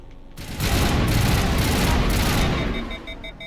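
Sustained automatic gunfire from the player's weapon in the video game Mass Effect Legendary Edition, a dense loud rattle lasting about two seconds before tapering off.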